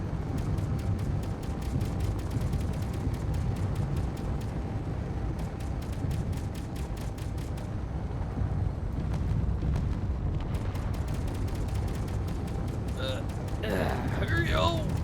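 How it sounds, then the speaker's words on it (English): Missiles and explosions in the Space Engineers video game, a continuous loud rumbling barrage with rapid repeated blasts and crackling impacts, sustained throughout. "Oh dear, missiles! Lots of missiles."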